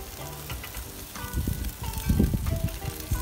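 Pre-sliced mushrooms tossed onto onions already sautéing for cheeseburgers, hissing in the pan with scattered pops and clatter that grow busier and louder after the first second; no talking.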